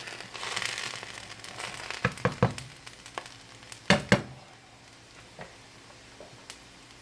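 Hash browns baked with green eggs and ham sizzle quietly in a pan, with a steady low fry broken by several sharp crackles and pops, no talking.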